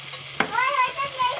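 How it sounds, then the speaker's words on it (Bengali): Spices and garlic paste being stirred and fried in a pan: a sharp scrape of the utensil, then a continuous sizzle with squeaky scraping strokes, close and moderately loud. "তো এই দুইটাকে আমি ভালো করে নাড়াচাড়া করে নিই"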